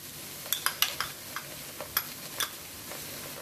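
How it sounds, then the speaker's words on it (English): Ginger garlic paste sizzles softly in a hot pan while a spoon stirs it, giving sharp intermittent clicks and scrapes over a low frying hiss; no talking. "Now we will add ginger garlic paste."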